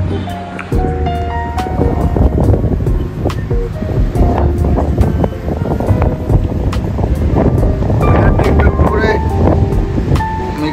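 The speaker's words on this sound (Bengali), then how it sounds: "ফুরফুরে হাওয়া হচ্ছে।" Breezy wind rushes steadily across a hotel rooftop in seaside Digha, a full, blustery roar buffeting the microphone throughout while voices talk over it.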